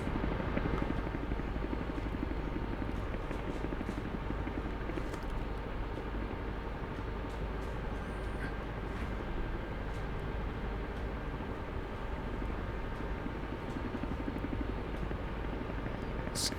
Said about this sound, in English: Just push up the throttles.